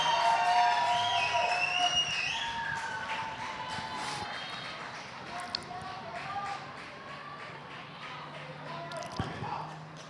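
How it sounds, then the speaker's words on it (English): Football crowd at a women's league match cheering after a Hearts goal, a broad sustained roar with whistles and shouts that slowly fades, with commentators talking over it. "You can hear the crowd very excited about that goal from Hearts."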